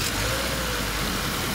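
A car engine runs steadily at close range, a continuous low mechanical drone with no change in pitch or level and no voices over it.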